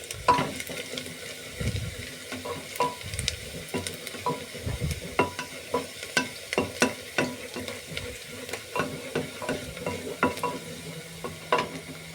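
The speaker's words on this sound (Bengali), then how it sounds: "পেঁয়াজটা যতক্ষণ না কালার আসে আমি এটাকে নেড়ে চেড়ে নেব।" Onions frying in a pan while being stirred, a steady sizzle broken by repeated scraping and clacking of the spatula against the pan in an irregular rhythm, close and fairly loud.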